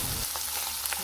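Onion frying in a pan with chili and salt for a cabbage fry, a steady close sizzle with a few faint crackles and no talking.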